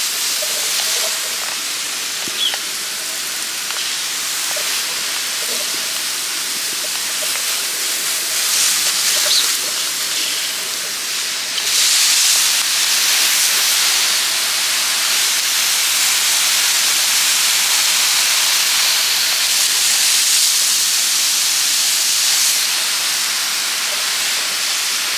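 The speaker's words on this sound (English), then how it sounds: "I am going to continue my watering this area." A garden hose sprays water over succulents in a steady, broad hiss close by, with the spray growing louder and brighter partway through and continuing evenly to the end.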